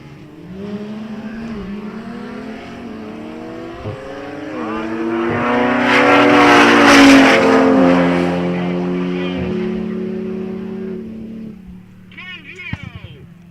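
A Toyota Supra and an Audi S3 launch side by side at a drag strip, engines screaming up through repeated gear shifts in loud rising sweeps, peaking as they pass before fading, with an announcer talking over them.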